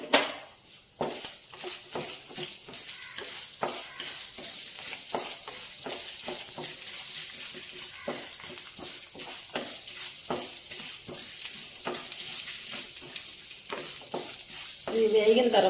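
Ginger pieces fry in hot oil in a pan for a Telugu-style ginger chutney with chana and urad dal, giving a steady, close sizzle broken by frequent stirring scrapes, with a brief louder crackle near the end.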